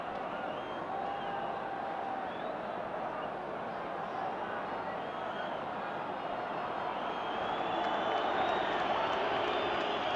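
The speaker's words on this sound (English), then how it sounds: "Crowd a little irritated by that" A big football stadium crowd at a 1977 Scotland versus Czechoslovakia match gives off a dense, steady roar and murmur that swells slightly louder toward the end, with no clear single cheer.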